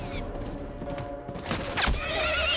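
A horse in a video game gives a sharp, loud whinny partway through, amid clip-clopping hooves and other game sounds, with no talking.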